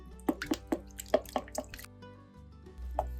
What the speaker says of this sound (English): we've got 750 grams of water, and now we are going to whisk that in